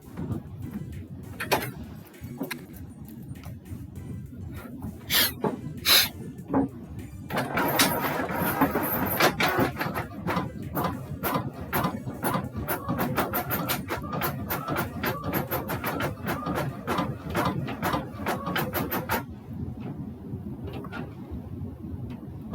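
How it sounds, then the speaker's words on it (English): A printer running a job, a steady mechanical whir with a dense train of rapid clicks and feed ticks lasting most of the stretch, fairly close and alone before stopping near the end. "Come on, printer."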